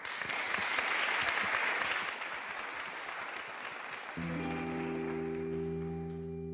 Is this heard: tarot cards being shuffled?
no